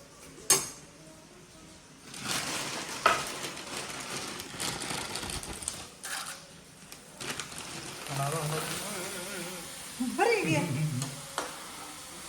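Food frying in hot oil with a steady close sizzle, joined by stirring and the scrape and clink of utensils against the pan, with a voice talking at times.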